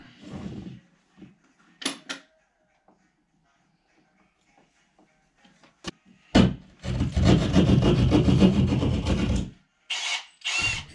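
Scraping and rasping of a blade cutting a hole through drywall. It comes in short bursts, then one long loud sawing stretch, followed by two brief strokes.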